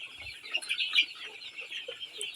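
Sonali chickens on a Bangladeshi poultry farm, a flock of about 1050 birds, make a soft, continuous chorus of overlapping clucks and chirps, with no talk.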